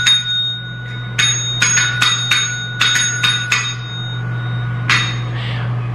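A pair of small metal dog bells being tapped, sharp bright dings in uneven bursts, several quick strikes and then one last ring that fades, over a low steady hum.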